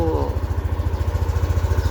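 Yamaha Aerox scooter engine idling after a fuel pump wire repair, a steady close low thrumming pulse with even rapid beats throughout.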